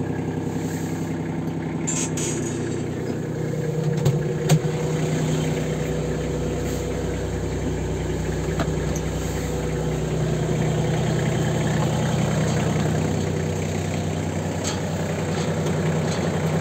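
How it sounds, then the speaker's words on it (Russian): A 33 hp Iseki Geas AT33 mini tractor engine runs steadily with its rotary tiller turning, a low, continuous mechanical drone and whirring, close by, with a few faint clicks and no speech. "Фреза вращается как бы тихо,"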